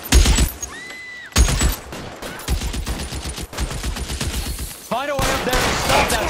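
Machine gun fire in the video game L.A. Noire: loud rapid bursts and scattered shots with a short whistling sweep, continuing with faint voices underneath.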